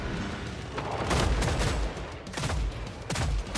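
A gun firing in the zombie shooter Killing Floor 3, several loud close bursts of rapid shots with short pauses between them.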